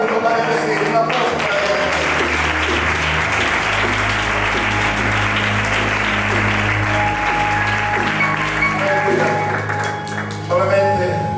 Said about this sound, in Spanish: Bueno, Padre, recibir un aplauso.